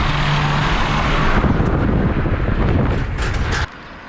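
A Toyota Prius towing an overloaded trailer about 7 feet tall, heard as a loud rumbling roar of road and wind noise buffeting the microphone, which drops off abruptly near the end.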